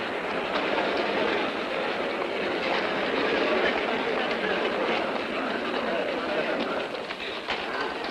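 A busy railway station, with the dense rumble and clatter of a train under a crowd of voices and general bustle throughout.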